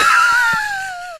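A human voice imitates a rooster's caw in one loud, drawn-out screeching call that slowly falls in pitch and cuts off abruptly after about a second.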